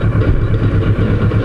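A car engine runs at a road drive, with a loud, close, throbbing idle-like pulse beating in a steady rhythm and no talk over it.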